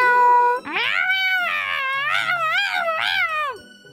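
A kitten in a yard meows repeatedly in long, wavering, high-pitched cries, loud and close, after a brief tonal chime at the start.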